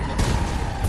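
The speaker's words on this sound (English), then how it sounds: "I touched the fence and a fucking insane explosion killed me" A huge video-game explosion set off by touching a fence: a loud, dense blast with a roaring, crackling wash that fills the whole moment.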